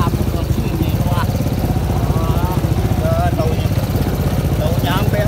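An old, stalling motorcycle idles with a steady, rough putter that runs continuously at close range, with voices shouting over it now and then.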